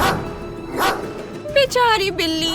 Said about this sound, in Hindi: वो बुरा कुत्ता तुम पर भौंक रहा है।